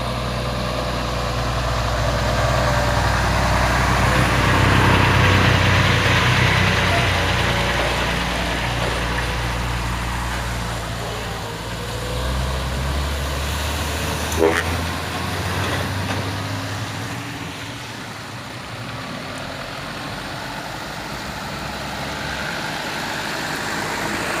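A Hino trailer truck hauling a container runs with a heavy, steady diesel drone, growing louder as it nears, then easing off, with one short clank partway through and no speech.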